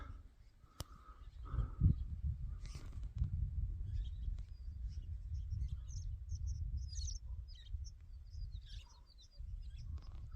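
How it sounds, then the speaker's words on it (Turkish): Scattered bird chirps and calls sound at a distance on a mountain at over 2000 metres, over a low rumble of wind and outdoor noise, with a brief thump near the start. "kuş sesleri"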